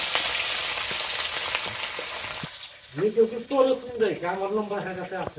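Fish fry in hot oil, giving a steady bright sizzle for the first half that is then partly covered by a voice talking in the second half.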